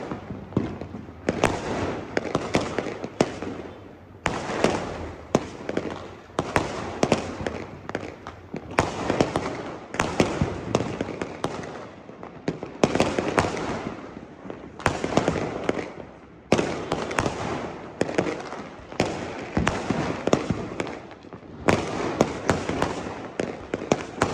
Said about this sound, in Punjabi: ਅਸਮਾਨ ਤੇ ਪਟਾਕੇ ਦੀ ਆਵਾਜ਼ ਆ ਰਹੀ